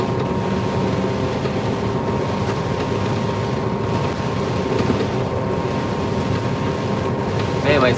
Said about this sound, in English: Man, my cylinder's shaking like a banshee right now.